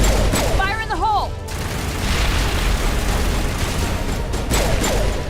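A grenade blast and bursts of gunfire in the Mass Effect video game ring out loud and dense, with a rumbling explosion and crackling shots filling the stretch while a voice briefly calls out over the start.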